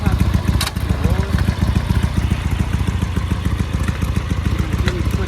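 A motorcycle engine runs steadily during gear downshifts, a continuous close throbbing rumble with faint mechanical clatter, while a rider talks over it.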